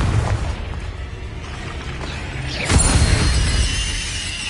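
A Confringo fire spell from Hogwarts Legacy bursts with a loud, booming blast partway through, its rumbling roar carrying on beneath a steady layer of game ambience.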